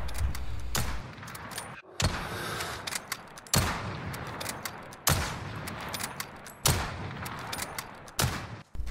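Repeated AX-50 sniper rifle shots in the Modern Warfare video game, about six loud, sharp cracks spaced roughly 1.5 seconds apart, each with a short decaying tail, no talking.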